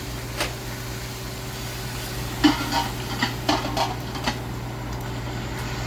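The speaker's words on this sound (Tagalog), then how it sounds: "ayan bubuksan naman natin paghalo-haluin para mapantay yung luto niya" Vegetable fish curry with coconut is stirred in a pan, giving a steady low simmer with a few soft scraping knocks of the spoon in the middle of the stretch, with no talk.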